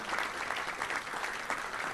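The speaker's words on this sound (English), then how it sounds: "Let's give him a round of applause." Audience applause at a Little Rock Touchdown Club luncheon, a steady, fairly soft wash of many hands clapping together, heard from a slight distance.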